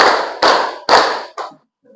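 Three loud unison claps from a standing group, evenly spaced, followed by a softer, ragged stray clap and quiet; at a PKK community outreach competition in Menukung, Melawi.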